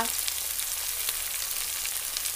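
Mixed vegetables sauté in a hot pan: beans, flat beans, potato, kohlrabi, carrot, amaranth stalks and a little cabbage. They give off a steady, close sizzle of frying with faint stirring, and no voices.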